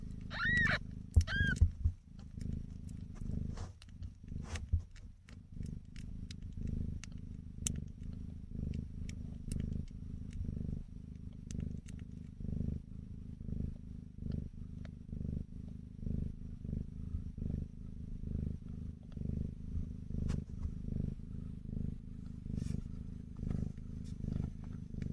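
Several mixed kittens purr in a steady, close, low rhythmic rumble that rises and falls with each breath, a few faint squeaks and clicks at the start, otherwise alone and continuous.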